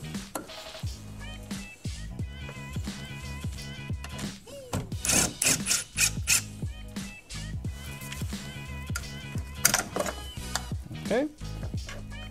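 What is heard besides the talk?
ratchet undoing negative battery terminal, 2015 Mazda 6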